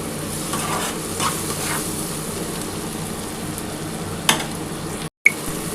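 Native tangra fish fry in a pan and are stirred, producing a continuous crackling sizzle with scraping utensil strokes, a sharp knock near the end and a momentary dropout.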